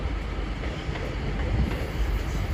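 A freshly washed Class 221 train passes at Exeter St Davids station on a drizzly afternoon, its dense rumbling roar steady and close for a few seconds, with no voices.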